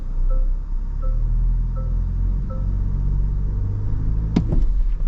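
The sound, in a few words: Toyota Land Cruiser engine climbing off-road over rocks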